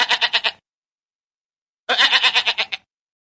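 Two separate bleats from a goat, each a quick wavering run of pulses, with a short pause between them. Both are close and clear.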